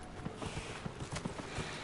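Quick, light video game horse hoof clops in an uneven trotting rhythm, fairly close, over a steady background hum.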